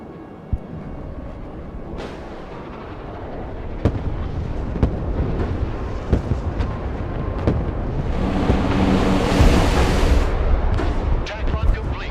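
An AC-130 in the video game Broken Arrow delivers close air support, with a rapid string of heavy booming explosions and sharp cannon impacts that thicken into a dense, rumbling barrage over a constant low drone.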